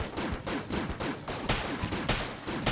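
Rapid bursts of hegemony rifle gunfire in the video game Enter the Gungeon, loud sharp shots in quick repeated volleys with short gaps, steady and alone without speech.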